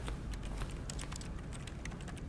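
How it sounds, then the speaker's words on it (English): Keyboard typing in the video game The Stanley Parable, a quiet run of quick, uneven key clicks heard alone against soft background hiss. "Typing."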